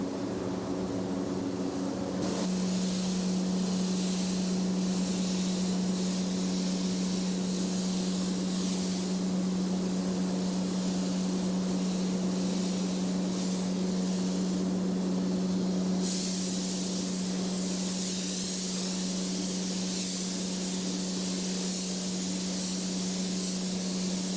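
A paint spray gun lays a light candy coat of tangerine fading into Spanish gold on a custom flame paint job, a steady loud hiss with a constant compressor-like hum underneath, running continuously without talk.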